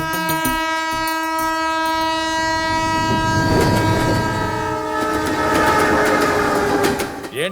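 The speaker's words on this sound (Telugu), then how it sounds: "అదిగో చూడు, ట్రైన్ వస్తుంది." A train pulls into a station with a long, loud sustained horn blast over rumbling wheels and rhythmic clatter on the rails, growing louder and fuller as it nears.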